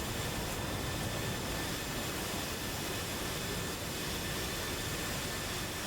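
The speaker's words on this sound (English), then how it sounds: "They're all taking off in very quick order." Jet fighters of Toro squadron take off in a flight-sim game, making a steady, unbroken engine roar that fills every moment at an even loudness.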